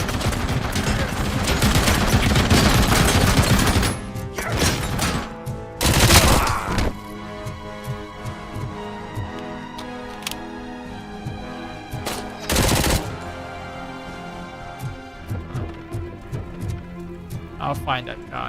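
Assault rifle fire in the RoboCop video game, several loud bursts of gunshots spread through the span, with game effects and a voice talking in between.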